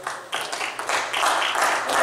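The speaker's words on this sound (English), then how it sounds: "Give the Lord a hand clap of praise." A church congregation at a Thanksgiving service claps hands in praise, with uneven bursts of clapping swelling and overlapping at moderate distance.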